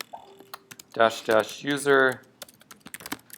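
A pip install command typed on a computer keyboard, with quick, close clicking keystrokes in bursts before and after a short spoken phrase in the middle.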